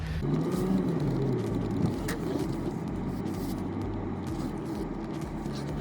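Car being parked in a downtown paid parking area, a steady low engine rumble and whir with slight variation in pitch, close and continuous, with no talk.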